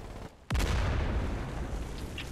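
Deck gun on a gunboat firing in the video game Axehead D-Day, a single loud close boom that hits hard and then rolls into a long sustained rumble.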